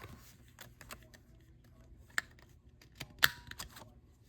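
Scissors snipping the rounded corners off a paper planner dashboard, a few crisp cuts and paper rustles close by, with two sharper snips standing out in an otherwise quiet room.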